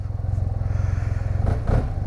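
SYM Maxsym TL 508 maxi-scooter idling with a steady low pulsing engine throb, then briefly revving as the throttle opens near the end, close and fairly loud.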